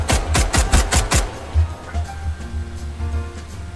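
Five or six sharp, loud gunshots in quick succession in SCP 5K, followed by quieter scattered thuds and a low rumbling ambience.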